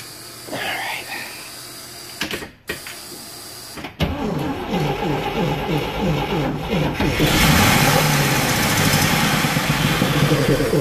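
A 1979 Blue Bird bus engine cranks and catches, then runs steadily on a replacement carburetor, its rough idle rising into a louder, sustained roar near the end, with a few voices talking over it.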